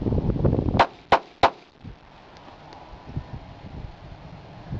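S&W Bodyguard 380 pistol fired at a range, three sharp close reports in quick succession about a third of a second apart, followed by quieter background noise with a few faint knocks.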